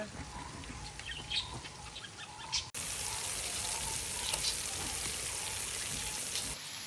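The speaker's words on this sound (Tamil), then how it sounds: "ஆனால் இப்போ கேஎஃப்சி சிக்கன் பொரிக்கிறோம்" Steady, dense sizzling and crackling of homemade KFC-style chicken frying in hot oil, continuous throughout with a brief dropout partway through, no voices.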